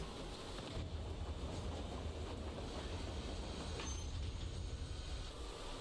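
A train moving in the video game ZZZ, a steady low rumble with rhythmic wheel clatter and faint metallic squeals, fairly quiet and unbroken throughout.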